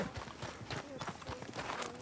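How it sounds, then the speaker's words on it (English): A horse gallops in Red Dead Redemption 2 with a quick, steady clip-clop of hooves, fairly faint and muffled beneath the game's background sound. "My horse just ran over you."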